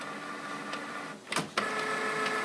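A Canon printer, about one and a half to two years old, warms up after being switched on: a steady mechanical whir broken by a couple of sharp clicks and a short motor burst partway through, close and alone.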